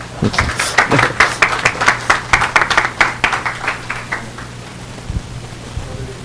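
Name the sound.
audience applause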